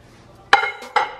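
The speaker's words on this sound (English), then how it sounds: "I'm gonna go and put this in the microwave for a minute" A dish set down with a couple of sharp clinks against glass or ceramic inside a microwave, two distinct knocks close by with a short ringing tail.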